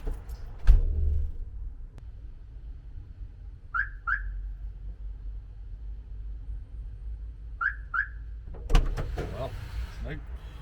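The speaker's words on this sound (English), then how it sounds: "It's got an alarm on it. I didn't even realise." Car alarm on a budget motorhome sounding in two short paired chirp bursts around a low idling hum, with louder door clunks and handling noise at the start and end.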